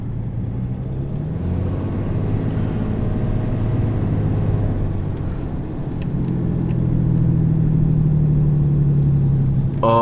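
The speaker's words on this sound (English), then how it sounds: "Oh, Jake brake." A 2018 RAM 2500HD Laramie with a Cummins diesel engine runs its exhaust brake, giving a steady, low, throaty rumble that builds slightly louder toward the end, with no talk.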